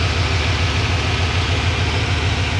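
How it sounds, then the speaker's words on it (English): An older Ford F-150 pickup truck, a farm find, idles steadily. Its engine gives a loud, even low rumble with no change in pace and no voices over it. "Listen to this truck. Just listen to this engine."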